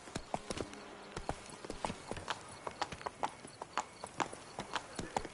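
Roach, the horse in The Witcher 3, trots along with steady rhythmic hoof clip-clops close by, a brief whinny-like sound mixed in, and no voices.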